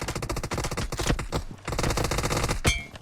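Rapid automatic gunfire from PUBG Mobile during a large team battle, dense overlapping bursts of shots filling the whole stretch, loud and continuous with brief gaps and a sharp burst near the end.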